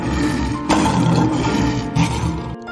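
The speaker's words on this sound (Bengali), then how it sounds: "দন্তস্যয়ে সিংহ।" A lion roars in a loud, rough, continuous rumble with two stronger swells, heard alone and close.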